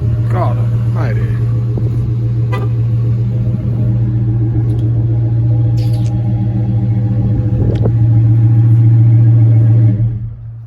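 A Chrysler 300 with a muffler delete on 24-inch Rucci wheels idles after a cold start on a freezing day, giving a loud, steady, deep exhaust drone with a voice talking over it before it cuts off at the end.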